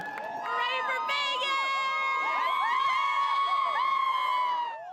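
Winnipeg Jets hockey fans cheer and whoop in a large outdoor crowd at the downtown Portage and Main intersection, a loud sustained roar with shouts and whistles rising over it throughout.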